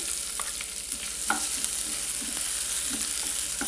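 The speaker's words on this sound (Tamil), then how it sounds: "இந்த வெங்காயம் லைட்டாக வதங்கட்டும்" Chopped large onion sautéing in a pan for bread egg masala, a continuous bright frying hiss with occasional soft spatula stirs and scrapes, close and steady, no voices.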